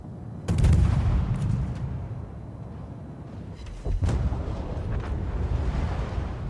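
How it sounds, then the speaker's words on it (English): Warship guns boom in World of Warships naval combat, two heavy salvos with rumbling low-end blasts, the first near 0.5 s and a second around 4 s, over continuous ocean and engine ambience. "He decides to turn his guns towards him."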